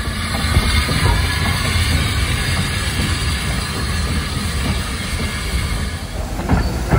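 A steam locomotive train rumbles steadily past at close range at a heritage railway gala, with low heavy rolling noise and faint wheel clatter, no voices.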